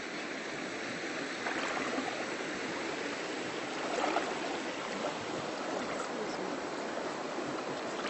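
River water rushes steadily during a river crossing at Agua Salada near Poza Azul in Morelos, Mexico: a loud, continuous broadband gush with a few slightly stronger swells, close by and with no pauses.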